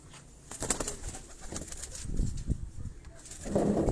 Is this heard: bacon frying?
no